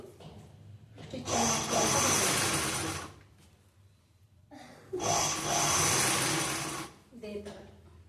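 Sewing machine stitching a blouse made without lining, running in two loud, steady bursts of about two seconds each, separated by a quieter pause with faint background sounds.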